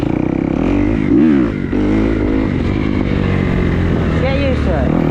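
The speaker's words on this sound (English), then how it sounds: "Let's get used to popping that clutch." A motorcycle engine revs loudly and steadily with brief dips in pitch as the clutch is popped to lift into a wheelie, the close engine roar running continuously.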